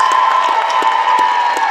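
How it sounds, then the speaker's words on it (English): Loud applause and cheering from an audience at the Hazbin Hotel panel at Anime Pasadena 2024, dense clapping with whoops and shouts under a steady tone, close and continuous throughout. "one more round of applause for these incredible human beings"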